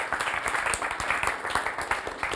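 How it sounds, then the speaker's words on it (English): Applause from an audience at a talk show on global education, steady dense clapping from many hands at close range, sustained without pause. "clap for her as well"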